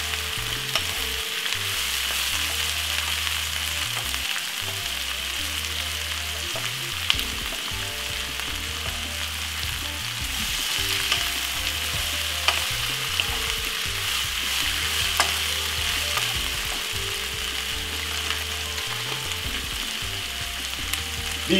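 Bully beef with coarse pepper frying and being stirred in a pan, a steady bright sizzle running throughout with faint scraping of the spoon, close and alone.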